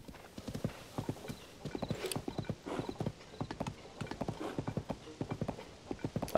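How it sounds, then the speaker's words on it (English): Horse hooves clip-clop along a road in Zelda: Tears of the Kingdom, a steady, fairly quick rhythm of hoofbeats heard up close and moderately loud, with faint game ambience behind it. "Okay, now the horse is following the road."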